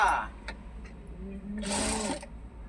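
A sewing machine stitches the neck of a dress, with a brief loud whirring burst near the end after quieter sounds and a voice at the start.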